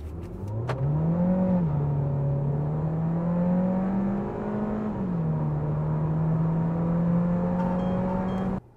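A 2025 Cupra Leon VZ-Line with a 1.5 eTSI mild-hybrid engine accelerates hard from 0 to 100 km/h, its engine note climbing steadily, dipping briefly at two gear changes, then rising again before cutting off abruptly.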